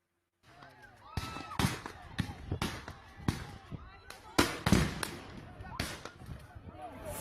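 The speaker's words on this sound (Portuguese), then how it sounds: "A polícia jogou bombas e disparou tiros de borracha contra as famílias" Repeated sharp bangs and pops from police stun grenades and rubber bullet shots, some booming, spaced irregularly amid shouting voices and crowd commotion.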